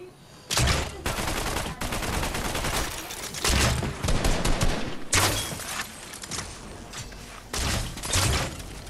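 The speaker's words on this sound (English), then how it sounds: "Now I get shot at." Rapid bursts of video game gunfire aimed at the player crackle loudly and almost continuously, dense volleys of shots with brief gaps.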